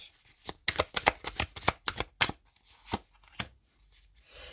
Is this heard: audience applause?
no